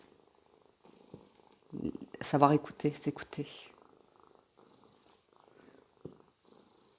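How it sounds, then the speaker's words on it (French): A cat purring loudly and close, a steady low rumble with louder bursts partway through, heard under a woman's speech. "Tu ronronnes comme un dingue, toi."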